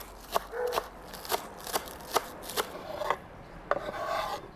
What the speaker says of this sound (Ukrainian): Тепер беремо зелену цибулю, нарізаю її.